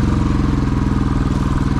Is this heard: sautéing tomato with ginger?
no